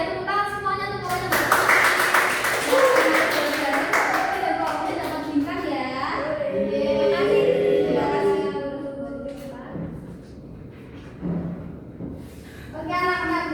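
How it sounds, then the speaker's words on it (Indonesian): Classroom of children clapping for a student group, brisk hand claps mixed with kids' voices and chatter, fairly close and lively throughout. "Tepuk tangan semuanya untuk kelompok."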